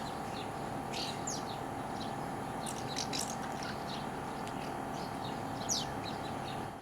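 Birds, including collared doves, barn swallows and screaming swifts, sound around an apartment balcony in Tavira in Portugal's Algarve, with faint scattered chirps and distant screeches over a steady hum of background noise.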